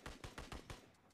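A rifle in the PUBG video game fires five quick shots in an even, rapid rhythm, sharp and close, then stops with only faint reverberation trailing off.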